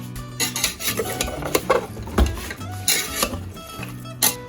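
Spoon scraping and clinking against a metal pot in irregular stirring strokes as mutton liver with water is mixed, close by, with no talking.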